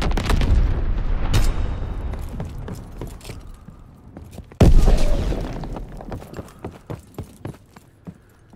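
Artillery strikes in the Call of Duty WWII video game: a heavy explosion opens, a second sharp blast hits midway and booms loudly, then a rapid string of smaller crackling impacts trails off into quieter scattered pops.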